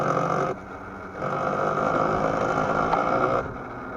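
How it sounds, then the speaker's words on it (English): An electric Yamaha YZ85 dirt bike whines as its motor sprocket, chain and rear sprocket run with a weird noise: a steady mechanical drone and rattle that drops away briefly, resumes, then fades near the end, with no talking. "my motor sprocket and my chain and my rear sprocket, it's making a weird noise"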